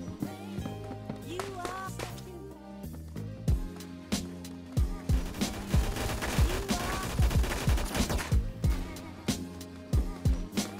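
Rapid bursts of L2A3 gunfire in Phantom Forces, with sharp repeated shots in short strings and clusters, fairly even in loudness throughout with brief gaps between volleys.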